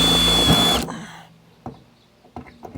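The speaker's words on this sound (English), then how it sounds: "I'm gonna drill an 1/8 inch hole" A drill whirs loudly for under a second while boring a 1/8-inch hole in the body of a Toyota Celica GT drift car, then stops abruptly and a few faint knocks follow.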